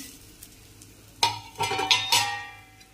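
Pumpkin seeds and sesame seeds dry-roast in a pan for a spicy seed powder, heard as a few close, scraping stirs with light crackle after a quiet start.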